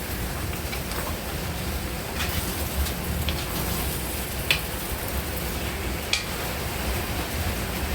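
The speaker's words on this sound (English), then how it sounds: "It's raining." Steady rain pours outside during a storm, a soft even hiss with a few faint drips and clicks, heard quietly from indoors while cooking in a cast iron kitchen.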